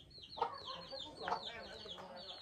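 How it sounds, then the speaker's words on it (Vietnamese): Chickens cluck on a small chicken farm beside a rural garden house, with faint, scattered calls repeating close together and a few louder clucks standing out over a quiet background. "trang trại nuôi gà"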